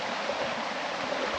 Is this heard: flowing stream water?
yes